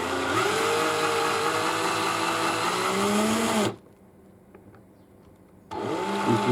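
A power drill whirs steadily while new unfired Lapua .223 brass cases are prepped, a loud continuous spin that cuts out abruptly into near silence for about two seconds, then starts up again.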